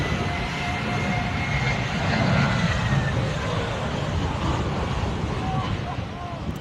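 Argentina's new presidential airplane roars past in a steady, loud, broad engine rush that swells slightly and holds for several seconds, heard from a distance with wind-like noise.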